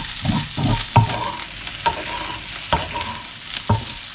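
A spoon stirs a squid filling of garlic, parsley and shrimp frying in olive oil, with a steady sizzle under a few distinct scraping strokes, close and clear with no talking.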